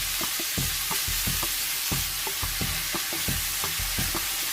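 Mushrooms and pancetta fry in a pan for a creamy tagliatelle, with a constant hiss of sizzling broken by frequent spatula knocks and scrapes, close and steady.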